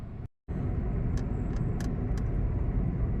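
A Nissan Almera engine idles steadily with a constant low rumble, close by and loud, after a brief dropout near the start; no voices.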